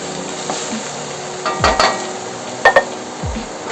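Chashu pork belly fried rice with eggs frying in a pan on high heat: a steady close sizzle, broken by a few sharp scrapes and clinks of a utensil against the pan. No voices.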